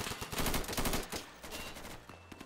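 Gunfire in the tactical shooter Insurgency, a rapid, loud string of close shots that thins out to a few scattered cracks before fading.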